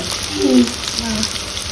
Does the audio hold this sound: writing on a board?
no